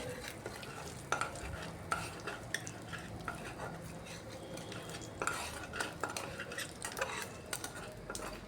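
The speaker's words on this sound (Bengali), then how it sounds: "ফোড়নটাকে একটু ভালো করে ভেজে নেব" Whole spices crackle and sizzle softly in oil, punctuated by regular taps and scrapes of a spoon stirring against the pan.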